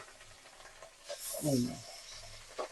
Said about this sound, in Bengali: মাছগুলো এক একটা করে ছেড়ে দিচ্ছি।